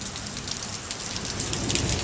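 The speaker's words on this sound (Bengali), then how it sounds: "বৃষ্টিটা মনে হচ্ছে একটু স্পিডটা বাড়লো এই মুহূর্তে।" Heavy rain pours down in a dense, continuous hiss, close and fairly loud, with no voices over it.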